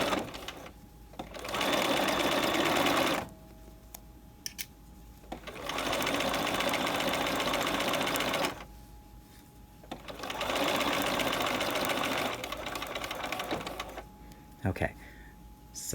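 A sewing machine stitching piping at a standard 2.5 stitch length: three steady bursts of rapid whirring, each lasting a few seconds and separated by short pauses, close and clear with faint voice nearby.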